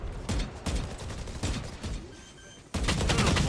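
Gunfire in a Valorant esports match: several loud, sharp bursts and single shots come in clusters, ending in a sustained volley, with no voices.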